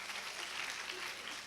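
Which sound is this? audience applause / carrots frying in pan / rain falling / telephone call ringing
audience applause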